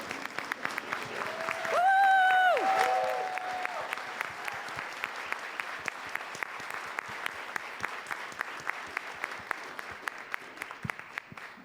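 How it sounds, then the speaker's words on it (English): A room full of people at a civic club membership meeting applauds steadily and warmly for several seconds, with a brief swell and a short electronic whine from the sound system early on. "please accept the applause of the room for the work that you're doing right now"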